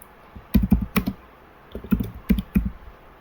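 Someone types program code on a computer keyboard in two quick clusters of close, crisp key clicks, separated by a short pause, with no voice.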